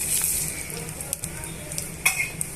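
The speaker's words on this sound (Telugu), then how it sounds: "తాలింపు గింజలను అన్నింటినీ కూడా ఈ నూనెలోకి వేసుకోవాలండి" Tempering seeds sizzle in hot oil in a pan, a continuous crackling fry with scattered pops and spatters at close range.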